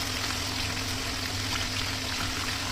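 Rohu fish frying in hot oil, a steady broadband hiss and crackle that holds evenly throughout with no voice over it.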